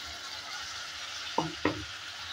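Spice paste hits a hot pan while aru sabji cooks, bringing a steady frying sizzle with two quick scraping stirs of a spoon close by and no voices.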